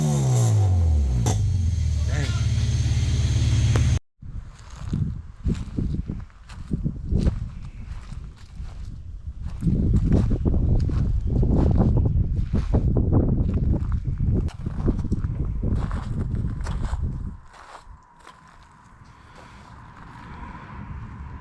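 An all-motor Honda Civic H2B engine on a dyno, heard first as a high, rising rev that cuts off abruptly. Loud, irregular rumbling and thumping noise follows, with a person talking over it.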